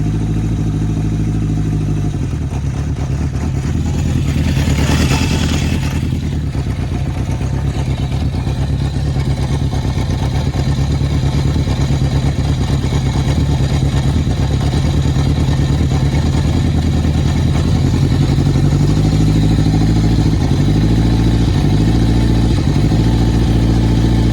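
A 1971 Honda CB750 motorcycle engine running steadily and loud after its first start of the day, a constant throbbing idle with a brief rev near the start and slight speed changes toward the end.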